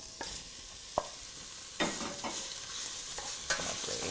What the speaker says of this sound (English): we're going to brown it straight into a hot pan.